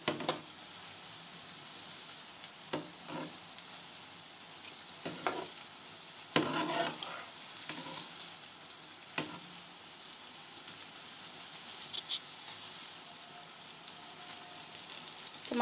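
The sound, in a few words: pakoras frying in oil for kadhi pakora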